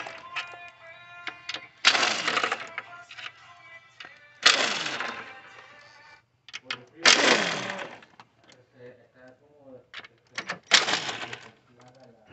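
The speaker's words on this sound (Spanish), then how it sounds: "Vamos a quitar todos esos tornillos." Ratchet clicks loosen the intake screws on a 2015 Nissan Pathfinder 3.5 engine, with several loud, rapid ratcheting bursts separated by short pauses. Someone talks at times between them.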